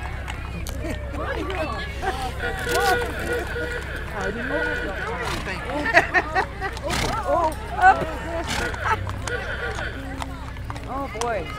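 Horse cantering along a May Day parade route in Pender Harbour, its hooves clip-clopping at a quick, uneven pace amid crowd chatter and nearby talk, with a few louder knocks standing out.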